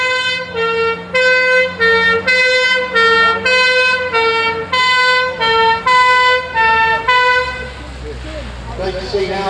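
Restored 1980s-style ambulance siren sounds close and loud, a harsh two-tone horn that alternates in a steady rhythm for several seconds and then cuts off into rumbling engine noise.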